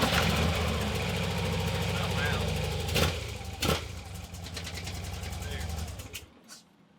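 A Harley motorcycle engine with a blown head gasket runs close and loud in a steady, rough idle, with a couple of sharp clunks midway, before cutting off and fading at the end.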